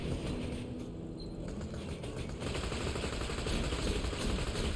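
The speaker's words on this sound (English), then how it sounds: "Who is shooting me?" Automatic weapons fire in Borderlands 2 forms a steady dense clatter with rapid bursts throughout, loud and continuous, backed by game noise and no speech.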